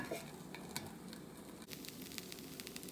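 Fiddleheads sautéing in a covered pan, a steady close sizzle with scattered small pops and crackles throughout.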